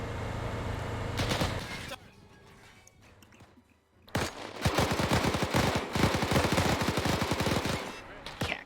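A magazine dumped in a French Resistance shooter: a dense, rapid string of close gunshots bursts out after a quieter lull, hammering steadily to the end, with talk over the combat.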